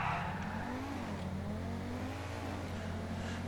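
Osiris Custom supercar with slick tires launching from a race start in GTA 5, a steady revving engine with rising harmonics as it accelerates, close and continuous.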